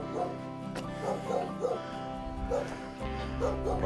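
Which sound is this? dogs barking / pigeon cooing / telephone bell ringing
dogs barking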